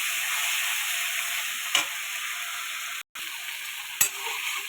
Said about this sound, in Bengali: এইভাবে কচু শাকটা ঢেলে দেবে